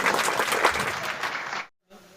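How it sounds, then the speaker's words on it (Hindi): An audience at a 75th Independence Day celebration breaks into loud, close applause to welcome a speaker, a dense burst of clapping that stops abruptly. "एक बार जोरदार तालियां बजा करके स्वागत करें"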